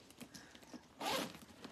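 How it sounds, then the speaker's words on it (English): The zipper on the outside of a new purse is pulled in a short, soft zip with faint rustling of the handbag around it, heard close and quiet. "It's got zipper on the outside."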